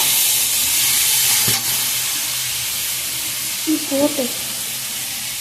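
Onions fry in a pan with a steady, broad sizzling hiss, close and even, with a brief clatter near the middle and a few soft knocks toward the end; no one speaks.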